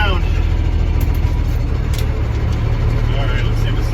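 A Peterbilt truck's engine rumbles loudly and steadily at close range as the rig begins to roll, with a constant low drone and a faint high whine throughout.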